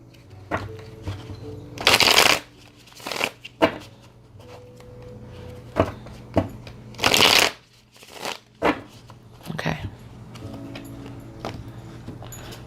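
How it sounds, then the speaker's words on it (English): Royal Dark Tarot cards shuffled in several separate bursts, crisp riffling up close, with quiet handling noises and pauses between. "this is the Royal Dark Tarot. Let me just give it a little shuffle."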